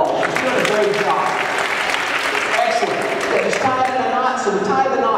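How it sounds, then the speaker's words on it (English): A live magic-show audience claps steadily for the magician's female helper, a dense, even round of applause throughout. "Give her a big round of applause."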